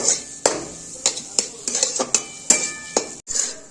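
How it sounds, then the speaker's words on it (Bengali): A semolina and boiled potato mixture stirred in a kadai, a spoon knocking and scraping against the metal pan in a run of sharp, irregular clinks up close, with no talk. "আলু সেদ্ধটাও এর মধ্যে মিশিয়ে দেবো। এর সঙ্গে নাড়াচাড়া করে ভালো মতো মিশিয়ে নেব"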